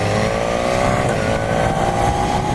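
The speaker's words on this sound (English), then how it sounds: "As we go through this residential area, depends on a certain RPM, you can hear the drone of its exhaust." A 2017 BMW S1000 R motorcycle drones steadily through a residential area at constant RPM, its exhaust a loud, continuous, close hum with a tonal buzz and no talking.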